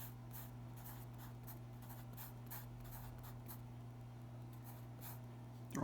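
Pen strokes scratching out algebra steps on paper, a steady run of short quiet scribbles against a constant low electrical hum, with no talk.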